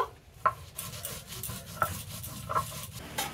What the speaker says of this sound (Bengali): এই জিরে আর লঙ্কাটা আমি বেটে নেব